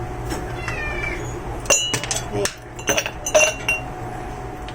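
Ice cubes clink and rattle as they are dropped by hand into a glass while avocado coffee is prepared, several bright knocks in quick bursts near the microphone, with a brief spoken exclamation.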